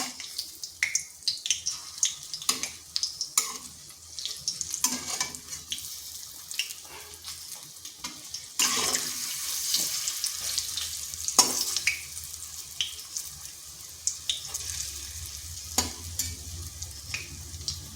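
Pieces of raw papaya frying in a pan over medium heat, a soft steady sizzle broken by repeated scraping and stirring clatter, close and moderately loud with no talking.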